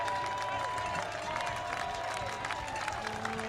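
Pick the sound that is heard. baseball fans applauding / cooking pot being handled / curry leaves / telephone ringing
baseball fans applauding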